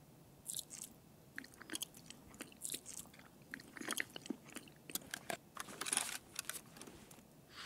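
Loud, wet smacking and crunchy chewing of food, a steady run of close, irregular bites and mouth clicks over several seconds, with no talking.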